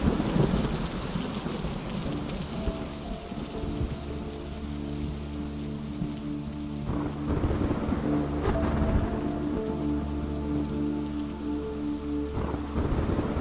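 A heavy thunderstorm with pouring rain roars steadily and loudly throughout. Rolling rumbles of thunder sit over a low, sustained tonal drone.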